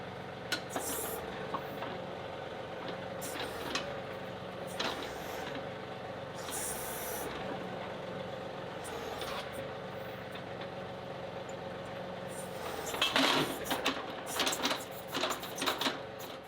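A tractor fitted with an upgraded HydrosPlus hydraulic pump runs several hydraulic functions at low idle, a quiet steady engine hum with clanks and metallic knocks scattered through, growing busier and louder toward the end.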